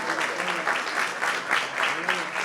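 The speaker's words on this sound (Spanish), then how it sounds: "Les pido un aplauso para el doctor Osvaldo Uchitel, médico." An audience applauds a doctor being honoured at a science and education evening, a moderate, continuous wash of clapping with some murmuring voices beneath.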